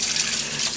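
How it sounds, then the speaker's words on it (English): Water runs steadily from a kitchen tap during hand rinsing while cooking, a continuous close hiss and splash without any talk. "I'll rinse my hands off."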